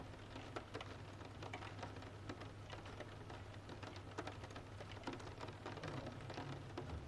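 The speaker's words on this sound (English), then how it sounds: "the rain continues falling patiently through the sleeping town." Steady rain falls on a sleeping town as a soft, constant patter of drops on surfaces, a faint unbroken hiss with no voices.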